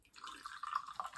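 Tyson Fury Sour Cherry Knockout energy drink is poured into a container in a soft, brief, faint stream of liquid, with no one speaking.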